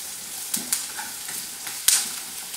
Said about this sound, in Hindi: इस 3 चीजों को हमें 4 to 5 मिनट्स तक पकाएंगे, ताकि हमारा जो प्याज अच्छे से पक जाए